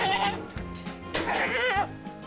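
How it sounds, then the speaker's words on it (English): Goats scattered across Wyoming rangeland, part of a herd raised alongside cattle, bleat in several wavering, overlapping calls at close to middle distance, with no talking. "you'll hear the bleating of goats scattered across this Wyoming rangeland"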